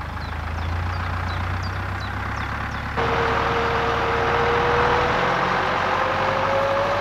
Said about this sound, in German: Die mit den Reben beladenen Erntewagen zieht ein Traktor im Halbstundentakt zur stationären Pflückmaschine.